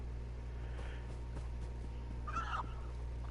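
Chicken clucking in The Elder Scrolls Online: a brief burst of clucks near the end of the clip, over a steady low game ambience hum with faint footstep-like ticks earlier.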